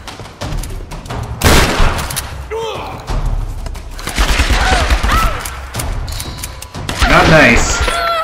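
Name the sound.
gunfire in Tomb Raider video game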